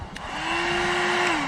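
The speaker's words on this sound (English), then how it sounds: "you need this heat gun, not a hair dryer like some people claim, a heat gun" A steady, loud whirring blower with a rising motor hum runs continuously on its own.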